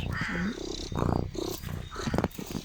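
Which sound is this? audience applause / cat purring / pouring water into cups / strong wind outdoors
cat purring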